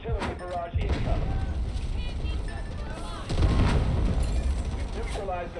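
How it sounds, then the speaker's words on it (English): Artillery barrage in the video game Delta Force: heavy booms and gunfire-like blasts pound close and loud, with a big impact near the start and another surge midway, while in-game voice callouts sound between them. "Artillery barrage incoming."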